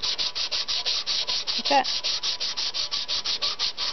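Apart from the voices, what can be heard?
sandpaper on a flat metal piece sanding a wooden bow handle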